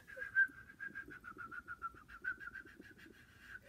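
A voice whistles a rapid, chirpy birdlike melody, a steady stream of repeated short trills in imitation of loud birdsong, fairly quiet and alone.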